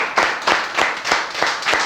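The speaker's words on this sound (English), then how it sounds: "This clapping is dedicated to you" Hands clap in a steady rhythm, about seven sharp claps spaced evenly, close and fairly loud with no voices over them.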